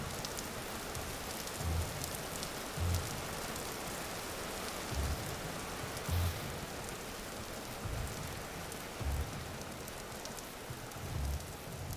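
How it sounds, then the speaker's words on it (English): Steady rainfall in the video game Vintage Story patters throughout at a low level, with a few soft thumps now and then beneath the hiss. "Oh, there comes the rain again."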